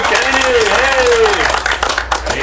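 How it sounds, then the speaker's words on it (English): Steady clapping from a poker tournament audience at a final table fills the clip, with an announcer's voice speaking over it in the first half. "Let's give him a round of applause."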